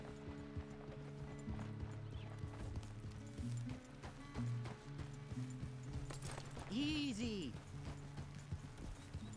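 Horse hooves clip-clopping in Red Dead Redemption 2, a steady mid-distance rhythm beneath game music, with someone talking over it and a brief whinny near the end.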